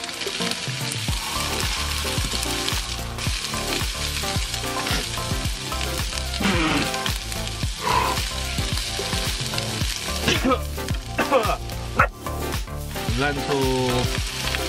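Lentils and other vegan wrap ingredients sizzle steadily in a frying pan in a camper van kitchen, a loud, continuous crackle with stirring scrapes throughout.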